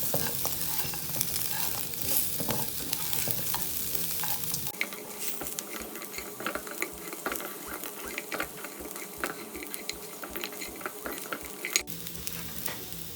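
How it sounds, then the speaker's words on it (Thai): Pork ribs stir-fry with a little sugar in a pan, a continuous crackling sizzle with rapid rhythmic scraping of a utensil against the metal, steady and close. "น้ำตาลทรายนิดนึง ผัดให้เข้ากันครับ"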